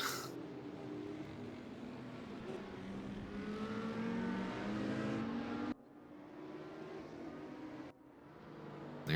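A race car engine drones and revs steadily in a sim racing game on the Dekra Lausitzring oval, the car limping with some fault, loud and continuous with two brief dips in level.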